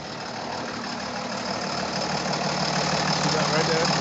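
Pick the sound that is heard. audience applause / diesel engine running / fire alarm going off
diesel engine running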